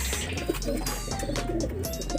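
Racing pigeons coo softly in low, repeated throaty calls as they return from a training flight, with some background noise and no speech.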